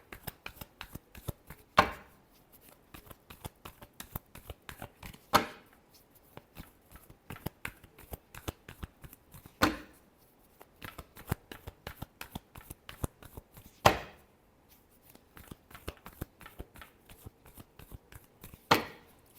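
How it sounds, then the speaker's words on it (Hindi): Tarot cards are shuffled by hand in a quiet room, a crisp run of soft riffling taps broken every few seconds by a sharper slap as the deck is squared, close and fairly faint with no talking. "Last shuffle."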